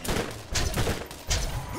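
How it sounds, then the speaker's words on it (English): Submachine gun fire in Borderlands 3, heard as loud bursts of rapid shots repeating about every half second across a brief stretch, with game effects layered underneath. "This SMG sucks."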